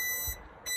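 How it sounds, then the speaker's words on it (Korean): A continuous high electronic beeping tone that briefly cuts out and then resumes, the hazard light chime of a small electric farm utility dump vehicle. "비상등 밤에 반짝하게 소리 나는데"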